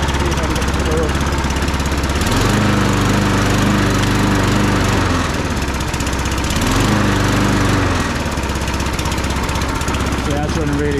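Briggs & Stratton Quantum 35 four-stroke engine on an Atco 16s lawnmower, recently troubled by a cracked inlet manifold, runs loud and close with a steady drone that rises in pitch twice, revving up then settling back to idle.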